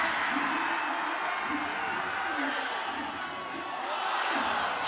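Crowd at a Premier Lacrosse League game between the California Redwoods and Utah Archers roars steadily after an overtime face-off win, a dense, sustained wash of cheering with commentators talking over it.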